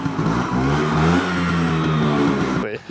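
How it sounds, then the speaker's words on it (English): A 1979 Vespa P200E scooter engine running and revving, close and loud with a steady two-stroke putter that rises and falls, cutting out abruptly near the end. "Can I kickstart it on the bike?"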